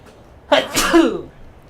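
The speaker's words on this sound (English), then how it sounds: "I'm about to sneeze." A single sharp sneeze bursts out close by, with a brief breathy intake before it and a short voiced tail after.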